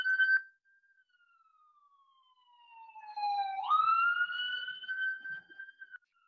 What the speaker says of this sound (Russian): О, у меня такси проезжает, не такси, а скорая.